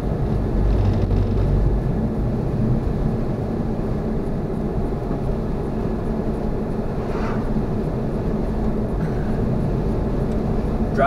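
Strong wind blows through a March snowstorm as a small Honda is driven, heard as a continuous heavy rumbling roar that stays steady and loud from start to finish.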